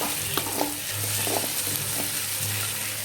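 Chopped onions sautéing in a pan for a South Indian tomato-onion thokku, a steady close sizzle and fry with occasional stirring scrapes throughout, no talking.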